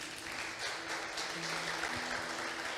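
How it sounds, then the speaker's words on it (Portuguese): Church congregation applauding during a sermon: steady, fairly faint, diffuse clapping fills the room throughout, with a soft low hum and an occasional voice underneath. "Você pode aplaudir a Ele por isso?"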